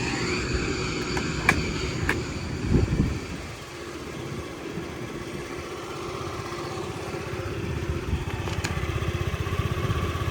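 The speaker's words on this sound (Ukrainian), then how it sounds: "68 в нас дуже м'якенько працює по двигунчику. Він такий тихенький, спокійний скутер" A Honda Dio AF-68 fuel-injected scooter idles close by, a steady soft, quiet engine hum with a small rev burst early on, running alone without talk.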